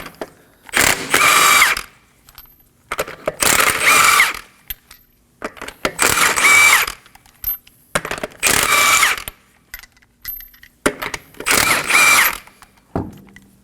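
An impact tool with a 21mm socket spins wheel lug nuts off a Kia Sorento, five loud bursts of rattling whir in a steady rhythm, each about a second long, separated by quiet pauses with faint clicks, close by and without talk.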